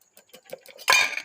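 Tiffin and tea dishes are being washed, with light scattered clinks of utensils followed by one louder, longer metallic clatter close by.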